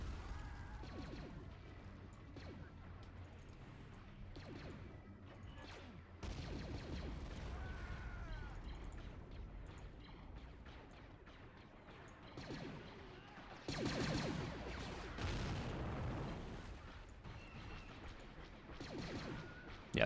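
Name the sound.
artillery bombardment in a video game (Men of War Assault Squad 2)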